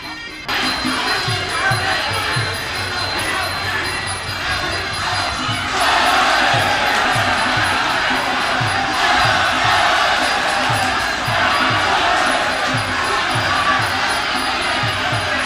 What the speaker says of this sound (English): Each time a strike lands, the audience yells out a cheer.